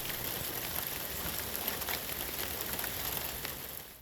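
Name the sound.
rain falling while waiting in a vehicle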